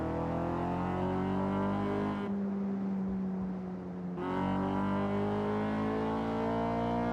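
A Honda with an F-series engine in Forza Horizon 6 drones at a steady high rev, briefly drops off and eases back, then pulls strongly again, sustained and buzzy with no talk.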